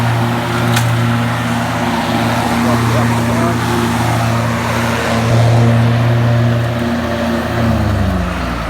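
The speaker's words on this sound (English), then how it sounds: "he's operating at low revs here just to blow that gently back under the tree" Tractor running a mow-and-blow mulcher at low revs in a blueberry farm row, a steady deep engine drone with layered humming tones that shift slightly near the end, loud and close, with a person talking over it.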